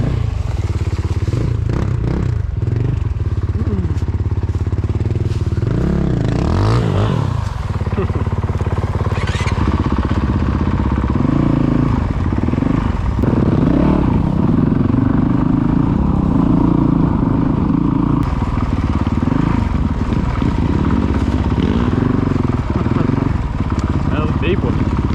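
A Honda CRF450L on new aftermarket tires rides off-road, its engine droning and revving loud and close throughout, with clattering and scraping over rough ground and wind noise; a rider talks over the engine.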